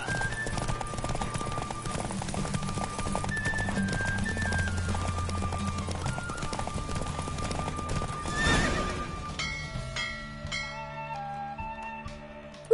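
Rhythmic hoofbeats gallop steadily under a sustained musical melody, with a horse's whinny near the end, during a horse race in The Witcher 3.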